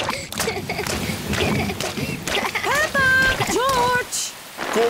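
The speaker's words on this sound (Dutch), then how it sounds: "Het regent nu veel te hard om buiten te spelen." Heavy rain in a cartoon hisses steadily as a constant wash of downpour, while cartoon voices and squeals play over it in the middle and later part.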